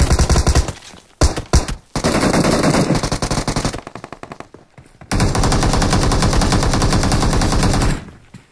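Video-game gunfire aimed at a bot: loud, close bursts of rapid automatic fire in several long strings separated by short pauses.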